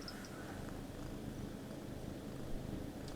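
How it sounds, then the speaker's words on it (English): A cat snuggled on a bed purrs softly and steadily up close, a faint continuous low rumble with little else around it. "Let's see if I can catch her purring"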